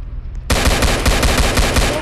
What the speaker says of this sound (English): this Lambo's shooting at officers